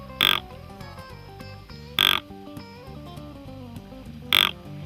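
A deer grunt call imitating a young buck gives three short, separate grunts, each brief and close, spaced over a few seconds against a faint background.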